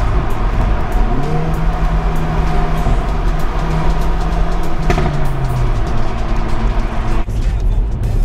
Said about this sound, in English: listen for when I change down and you'll be able to hear it blip